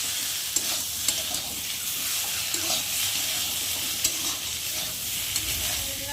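Soybean chunks and potato fry in a pan with turmeric, salt and spices, giving off a steady sizzle while a spoon stirs and scrapes with regular clicks, with no talking.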